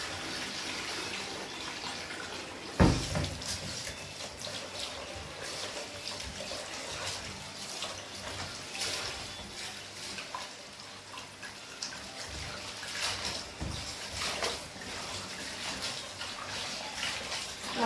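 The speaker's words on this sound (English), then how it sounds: "I'm washing the rice until I see the water is not cloudy, it's a bit clear" Rice being washed by hand in water, with continuous splashing, swishing and dripping that sits fairly quiet and close. A sharper splash cuts in near the start, and no one speaks.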